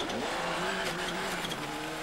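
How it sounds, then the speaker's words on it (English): A Malcolm Wilson-prepared Ford Escort Cosworth rally car races through a forest stage, its engine note rising and falling with a rough, chattering anti-lag crackle, heard from a moderate distance as it passes. "With its anti-turbo lag system chattering happily, the Malcolm Wilson-prepared Escort Cosworth was a full minute ahead of its nearest challenger."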